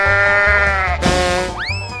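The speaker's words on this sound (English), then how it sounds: "Sheep." A sheep bleats loudly and close, with long wavering cries over a low steady background tone.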